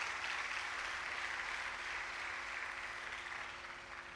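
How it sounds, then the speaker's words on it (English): An indoor audience at a centenary celebration claps steadily in sustained, moderately distant applause that slowly fades toward the end, with no talking. "I think he deserves another round of applause."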